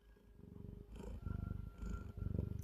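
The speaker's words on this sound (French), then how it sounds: "Je sais pas si vous l'entendez faire ce petit ronronnement." A heavy cat purrs close up, soft rhythmic rumbling pulses repeating steadily, quiet and alone.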